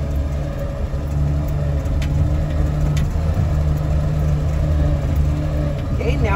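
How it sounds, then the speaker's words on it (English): A 1959 Chevrolet Apache truck's engine and transmission drone with a low, even hum and faint whine at the high end of a gear, running continuously at a constant pitch, close by, with no speech. "At the high end of the gear, you can kind of hear the engine whining"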